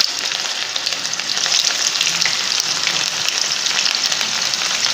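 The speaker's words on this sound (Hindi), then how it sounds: "अब मैं एक एक करके इसको फ्राई करूँगी कोफ्ते" Beef kofta balls fry in hot oil in a wok, giving a steady, dense bubbling sizzle that stays close and even throughout, with no voices.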